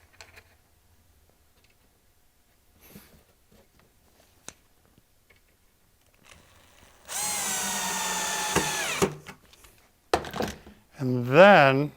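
A power drill drives a screw into a wooden wall cabinet in one loud sustained whir of about two seconds, followed by a short burst and a final rising and falling whine, with scattered taps and handling noise before.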